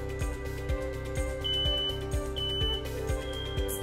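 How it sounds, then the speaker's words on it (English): A hardwired home smoke alarm sounds during a test-button check, giving repeated shrill beeps in a steady pulsing pattern over a low background rumble. "press the test button to ensure the smoke alarm is functioning properly"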